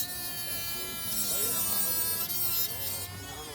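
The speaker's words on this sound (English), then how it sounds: "I'm gonna grind this down." A small rotary grinder grinds down a scale model wheel part, giving a steady, close, high-pitched buzzing whine that holds for a few seconds.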